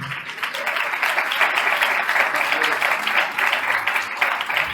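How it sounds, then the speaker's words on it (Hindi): Loud, steady applause from a church congregation during a Hindi-Urdu sermon, dense clapping filling the whole stretch with a faint voice or two underneath. "आए खुदा की कुदरत के लिए जोरदार तालियां"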